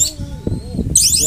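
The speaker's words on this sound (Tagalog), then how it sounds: "Ang liit-liit na ibon, sobrang ingay." A tiny, noisy fledgling bird calling loudly at close range in short high chirps, with a burst of rapid shrill cheeping at the end, while a person talks over it.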